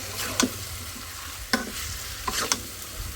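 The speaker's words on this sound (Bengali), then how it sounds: "ঝটপট ভাবলাম যে একটু কষায় দিই মাংসগুলো" Meat stir-fried in a pan: a steady sizzle with a few sharp clinks and scrapes of a spatula stirring, close and moderately loud, no talk.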